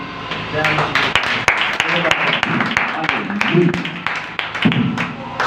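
Church congregation applauding, a steady wash of clapping with sharp individual claps, with people talking through it.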